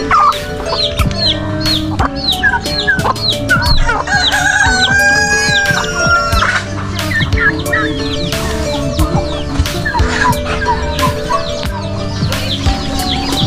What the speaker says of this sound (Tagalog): Pato, manok, pabo.